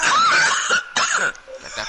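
A person coughs hard in harsh, rough bursts, close and loud, breaking into wheezy hacking with a brief pause before more strained coughing.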